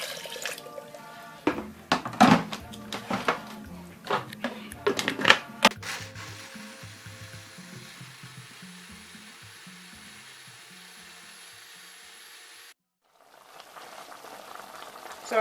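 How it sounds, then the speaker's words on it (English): A kitchen blender working on vegetables, butter beans and a little water for chicken pepper soup gives several sharp clattering bursts, then settles into a steady, fairly quiet whirring hum that cuts off abruptly before starting again at the end. "I'm going to blend this, add small water."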